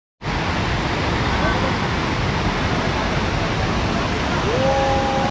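Loud, steady roar of rushing water fills the scene without pause, a dense broadband wash of Jatmai Waterfall in flood in Gariyaband.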